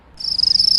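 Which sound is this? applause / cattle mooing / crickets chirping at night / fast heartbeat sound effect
crickets chirping at night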